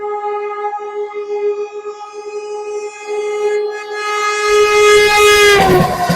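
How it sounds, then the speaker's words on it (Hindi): The Amritsar Vande Bharat Express, running from Old Delhi to Amritsar, sounds a long, loud, steady horn as it passes, followed by a rising rush and roar of the train going by close. "अमृतसर वंदे भारत एक्सप्रेस जो कि पुरानी दिल्ली से चल के अमृतसर को जा रही है।"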